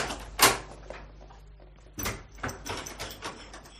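A door in a French radio drama shuts with a sharp knock, followed after a pause by a quick series of clicks and rattles as it is locked, all fairly close and without speech.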